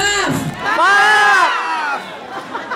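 A live club audience at a drag comedy show at a superclub in Cabanatuan erupts in loud cheering, whooping and shouting that swells and holds for about a second before tapering off into scattered voices.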